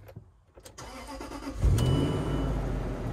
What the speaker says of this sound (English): I'm gonna attach my battery and then we're gonna start it up